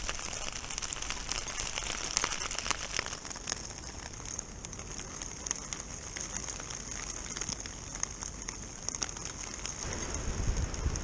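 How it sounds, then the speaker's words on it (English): Hail falls in the woods, a dense steady patter of small ice pellets with scattered sharper ticks close by, and gusts of wind underneath. "it is hailing"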